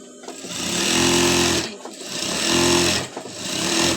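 A sewing machine runs in two quick bursts while stitching a petticoat seam, loud and close, with a brief pause between the whirring runs and no talk.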